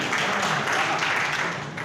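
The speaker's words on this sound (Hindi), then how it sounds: "एक बार जोरदार तालियां बजाइए।" Steady audience applause fills the space at a Hindi comedy poetry gathering in Mainpuri, a dense, continuous patter of many hands clapping together at a moderate distance.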